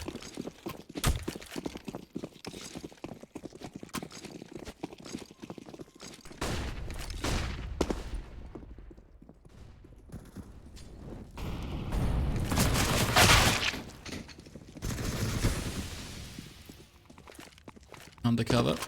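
Rapid SMG fire from Counter-Strike on the Train map rattles in dense bursts, mixed with footsteps and other gunfire, while a caster speaks over the action.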